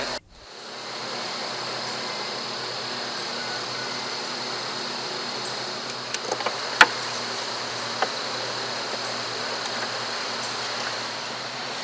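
Honey bees from an opened feral hive, a steady dense buzz filling the air, close and continuous, with a few faint clicks and taps near the end.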